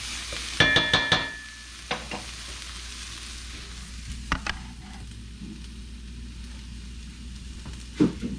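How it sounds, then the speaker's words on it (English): Crushed tomatoes are tipped into a pan of sautéing onions and garlic for ratatouille, with a burst of wet sizzling and scraping stirs at first, then a quieter steady fry with occasional spoon clicks. "I'm gonna go ahead and I'm gonna add my crushed tomatoes to this"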